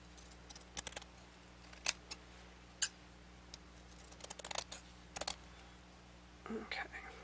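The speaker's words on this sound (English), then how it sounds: "So I'll cut it and then cut it down a little bit." Scissors snip through layered fabric ephemera in a few quiet, close cuts, scattered sharp clicks and short crunches over faint background hiss.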